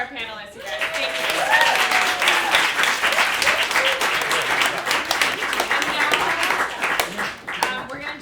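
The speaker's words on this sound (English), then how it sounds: "big round of applause for our panelists, you guys" A workshop audience gives its panelists a big round of applause, loud and sustained for several seconds, with scattered whoops and whistles rising above the clapping.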